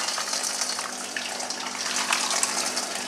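Boiling water is poured steadily over lasagna sheets in a kitchen, a continuous close gushing splash that stays even throughout.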